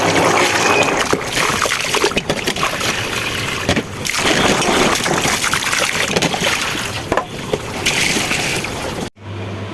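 Overnight-soaked chickpeas being washed by hand in water: close, continuous splashing and sloshing with repeated swishes and trickles, fairly loud throughout and ending suddenly.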